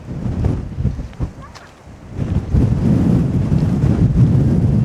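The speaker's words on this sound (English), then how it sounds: "It's so windy." Strong gusty wind blows at Nature's Window in Kalbarri, roaring and buffeting the microphone in heavy low rumbles, easing briefly before building again to a sustained loud blast.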